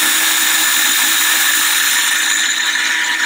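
Loud continuous whine of a power drill running at steady speed, close by, drilling into a Land Rover Defender's roof headliner, with a high-pitched buzz that holds throughout.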